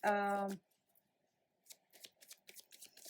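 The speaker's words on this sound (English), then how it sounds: "Let's pull a couple of cards" Tarot cards shuffled and drawn by hand: after a brief tonal sound at the start, quiet papery riffles and flicks come in short, uneven bursts at close range.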